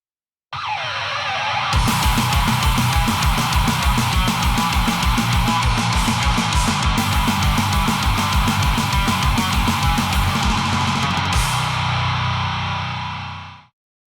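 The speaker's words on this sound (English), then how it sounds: "It's a high voltage distortion unit, so it's a distortion pedal" Heavily distorted electric guitar through a Game Changer Audio Plasma high-voltage distortion pedal, playing a steady chugging riff with buzzy, saturated tone, loud and continuous, then ringing out at the end.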